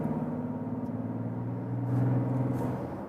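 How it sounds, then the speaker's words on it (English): A 2023 Mazda CX-60 six-cylinder all-wheel-drive engine accelerating, a steady rising drone heard from inside the cabin with a slight pitch change and swell partway through as it shifts. "Let me show you here some acceleration and just feel how it shifts."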